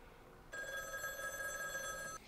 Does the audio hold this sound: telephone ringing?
yes